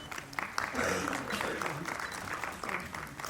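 An audience at a film premiere and interactive session gives a round of applause, fairly quiet and somewhat distant, with a voice heard faintly beneath the clapping.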